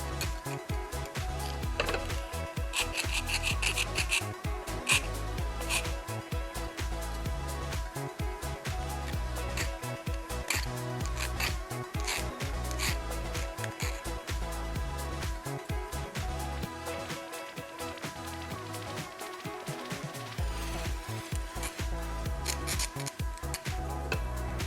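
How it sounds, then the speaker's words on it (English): A half-round file removes burrs from a winch part during repair. Close, rapid rasping strokes scrape in a steady rhythm throughout, with no talk. "Half round file. Just removing some burrs."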